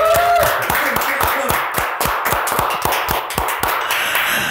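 An audience gives a guest, labour union figure Mahfud Siddiq, a round of applause at a talk-show style event, with steady rhythmic clapping from a crowd, loud and continuous throughout.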